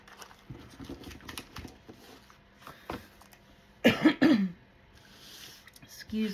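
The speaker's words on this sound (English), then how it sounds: "Excuse me for the coughing fit." A person has a short coughing fit with throat clearing. A sharp, loud burst of coughs comes midway, and quieter rasps, scattered taps and a soft voice fill the rest.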